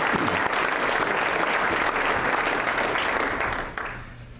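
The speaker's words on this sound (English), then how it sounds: "I think the ambassadors deserve a big round of applause" Applause fills a chamber of commerce awards banquet hall, dense and loud for several seconds before thinning out and fading toward the end.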